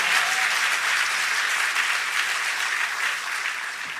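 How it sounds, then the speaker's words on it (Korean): Church congregation applauding to give glory to God, a dense, steady wash of many hands clapping that stays loud throughout before easing slightly at the end. "우리 소망이 하나님께 영광의 박수 올려드립니다"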